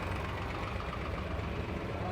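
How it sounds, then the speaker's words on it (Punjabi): A Swaraj 855 tractor from 2015 idles close by with a steady, even engine rumble and no pauses, and no one speaks over it. "ਸਵਰਾਜ 855 ਟਰੈਕਟਰ ਆ ਗਿਆ ਜੀ 2015 ਮਾਡਲ"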